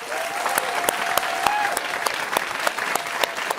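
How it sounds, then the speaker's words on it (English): A game show audience applauds the contestants, a dense, steady round of clapping from a nearby crowd with a few sharper individual claps standing out. "Let's give all of the contestants a round of applause."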